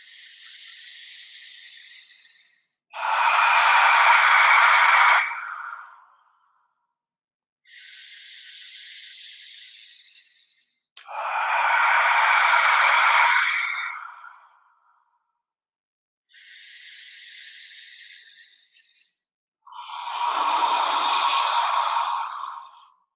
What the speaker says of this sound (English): take 3 deep cleansing breaths. Breathe in through your nose, breathe out through your mouth